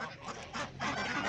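Ducks quack and honk in loud, overlapping bursts at a busy poultry market in Sungurlu, Çorum, close by with a brief lull midway.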